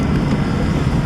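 Elizabeth Line Class 345 electric train at Canary Wharf station, a steady loud low rumble of the train running close by, without speech.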